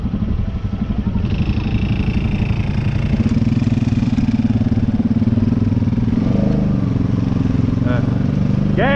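A Kayo Bull 150 dirt bike engine runs loud and steady, its pitch climbing as it powers through a mud hole, with voices talking over the engine noise near the end.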